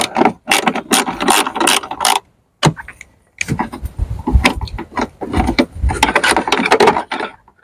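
A ratchet clicks rapidly and loudly in several close bursts with short pauses as the battery clamp nuts are undone on a Ford Focus.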